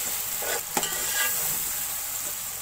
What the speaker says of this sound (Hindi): अब थोड़ी देर टमाटर और मटर को दोनों को भून लूंगी।